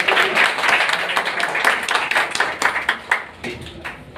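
Audience members clap at a Birsa Munda Jayanti celebration held at an academy in Indore, a loud, close round of hand claps that swells and thins in uneven bursts before tapering off.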